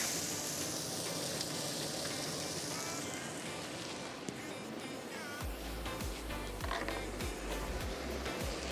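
About 1.5 kilos of chopped onions hit two litres of hot oil, with a steady loud sizzle that swells into heavy crackling frying, close up, with soft thuds and a low hum beneath.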